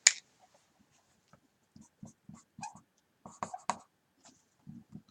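Someone writes on a board with a marker or chalk, giving a string of short, separate scratching strokes with pauses between them. The strokes are close and fairly quiet, with one sharp tap at the start and no speech.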